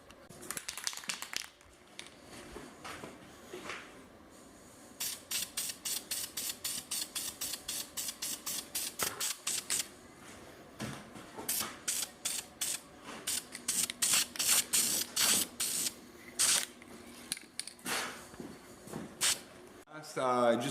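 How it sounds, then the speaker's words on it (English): Aerosol paint sprayed onto an engine block in repeated short bursts, a run of rapid hissing spurts with brief gaps, close and fairly loud, with some handling noise between passes. "So I'm gonna hit this with the paint right now and let it dry up."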